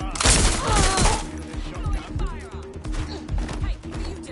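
Watch Dogs: Legion gunfight with a rapid burst of shots up front, then scattered pops and thuds over a steady game soundtrack, with voices calling out in the mix.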